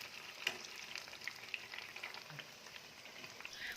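Chicken katsu deep fries in hot oil with a steady, soft crackling sizzle that pops now and then. It is close and fairly quiet, with no speech over it.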